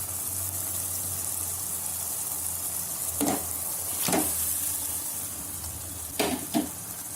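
Chicken pieces sizzling in a pan of Chettinad masala, a steady close fry hiss with a few sharper crackles and stirring scrapes, no talking.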